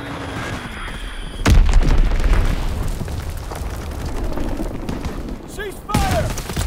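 Gunfire and booming blasts from a Call of Duty WWII multiplayer Domination match, loud bursts with a heavy impact near the start and another later, under a continuous battle din with a voice talking over it.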